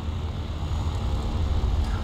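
Soviet LaGG-3 fighter plane in the War Thunder video game, a steady low engine drone that holds at an even, fairly loud level throughout with no breaks.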